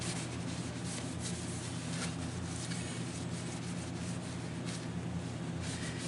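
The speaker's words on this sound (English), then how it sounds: "I'm going to go grab a piece of paper towel so I can wipe this oil off" A paper towel wipes oil off a Woodmizer LT15 sawmill guide rail in a continuous dry rubbing swish, close and steady throughout.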